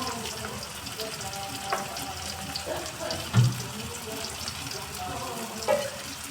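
Water pours into a pan of masala being cooked with chili and coriander powder, a splashing, sizzling wash with a couple of knocks, while a voice talks over it.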